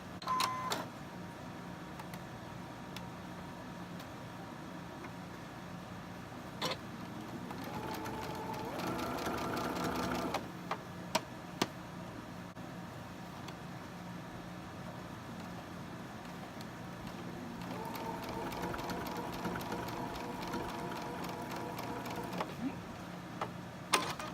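A sewing machine stitching quilt fabric blocks with a 1/4 inch seam runs in two bursts of steady, close whirring and rapid ticking, with quieter handling sounds between the runs.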